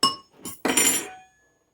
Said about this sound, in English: And I'll be mixing it up to make sure they get coated